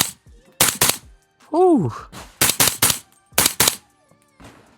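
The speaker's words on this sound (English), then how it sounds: "I'll shoot at steel from here, let's see." Sharp, loud 300 Blackout rifle shots ring out in quick pairs and threes at steel targets outdoors, each a broadband crack with short decay, and a brief voiced exclamation sounds between volleys.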